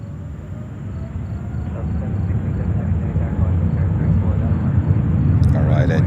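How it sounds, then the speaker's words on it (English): An Air India Boeing 777 taking off from runway 4 left at JFK airport in New York, a broad, heavy jet roar that swells steadily over several seconds, heard from a distance with no one speaking. "All right, and takeoff Air India, the mighty 777."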